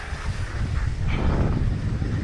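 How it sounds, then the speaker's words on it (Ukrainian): Strong wind blows across a mountain at Drahobrat in the Ukrainian Carpathians, a continuous low rumble and buffeting roar on the microphone that stays loud throughout, with no voices. "починається вітер"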